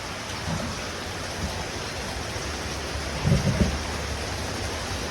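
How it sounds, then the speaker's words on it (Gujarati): Heavy rain falls steadily during a storm with strong wind. A low rumble of thunder swells briefly near the end over the constant hiss of the downpour, and no voices are heard. "ચાલ આવ્યો વરસાદ"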